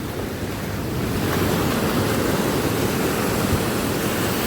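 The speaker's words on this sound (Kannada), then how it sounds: "ಪೂರ ಅಲೆಗಳು ಹೊಡ್ಕೊಳತ್ತಾವಲ್ಲೇ" Sea waves crash and wash continuously on Kokolem beach, a dense, steady roar of surf close by, mixed with wind rumble on the microphone and no voices.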